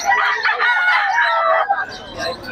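Chickens and a rooster at a market stall: loud, close crowing and clucking fill the moment, with a trailing call and bustle at the end.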